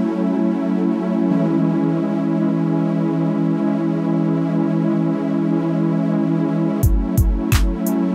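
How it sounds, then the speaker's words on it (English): Consonant music with steady, harmonious pitches sustained as a smooth layered drone, joined near the end by a few sharp percussive hits. "What you're hearing right now is an example of consonance."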